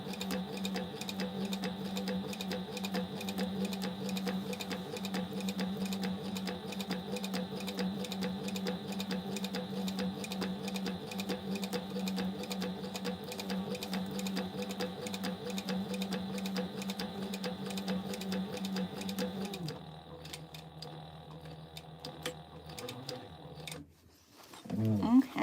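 A sewing machine stitches a crossbody bag with a steady rapid mechanical whir and needle tapping for about twenty seconds, then slows and stops into quieter fabric handling and a few clicks, with a voice talking over it.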